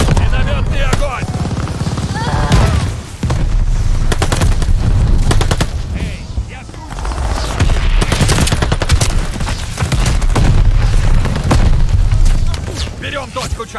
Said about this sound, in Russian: Минометный огонь.